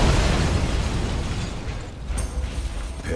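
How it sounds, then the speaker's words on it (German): An anti-aircraft gun blowing up in the shooter game Sniper Elite 4, a loud deep blast that rumbles and fades over a few seconds, followed by a sharp crackle of debris. "Dann machen wir mal hier dieses Geschütz kaputt. Oder die Flugabwehr, eher gesagt. Und lass es sprengen."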